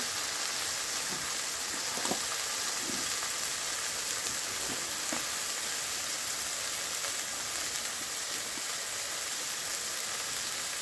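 Dried fish cooking over a wood-fired clay stove: a steady, close hiss with scattered soft crackles and pops, and no voices.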